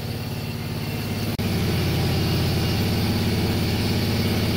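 A freshly rewired engine idles loudly and steadily up close with a low, even rumble, briefly dipping once before settling back into a constant run.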